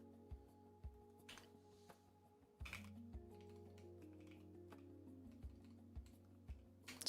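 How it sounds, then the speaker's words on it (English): Computer keyboard typing sounds as scattered single keystrokes and short bursts over a low steady background hum, fairly quiet and close. "I'm like typing a bunch of stuff that doesn't exist"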